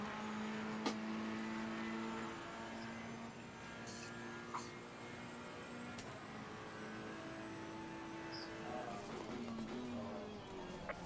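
Race car engine in Assetto Corsa Competizione at Barcelona, revving steadily through a flying lap with pitch rising and falling through gear changes, a continuous close drone with no talk.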